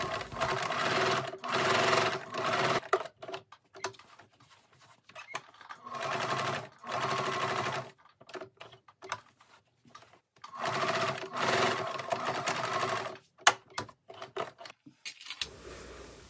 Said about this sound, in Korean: 이 부분을 바느질을 합니다.